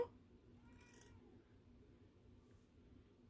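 A single soft cat meow near the start, quiet and brief, followed by faint room hum and low background noise.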